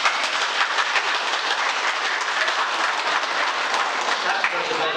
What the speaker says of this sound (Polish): Ja myślałem, że dla tych pań te oklaski będą bardziej rzęsiste.